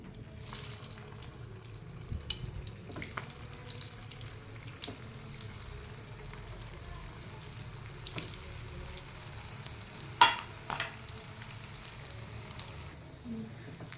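Potato tikki patties shallow frying in a pan over medium heat for ragda pattice, a steady soft sizzle running throughout with occasional light clinks of utensils.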